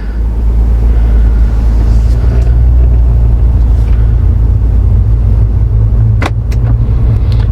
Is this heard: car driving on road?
yes